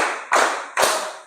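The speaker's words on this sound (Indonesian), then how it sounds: "Tepuk 4 kali." Close, loud hand claps from a classroom group, two distinct sharp bursts spaced about half a second apart, each fading quickly.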